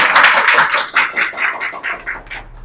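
Clapping from an audience at a birthday celebration, close and fairly loud, with individual claps and bursts standing out in an uneven rhythm that tapers off over a few seconds.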